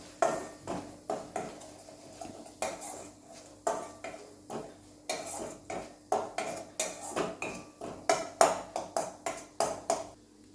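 A spoon stirs spices into vegetables in a pot for veg matka biriyani, a steady series of light metallic clinks and scrapes in a regular rhythm, close and fairly quiet.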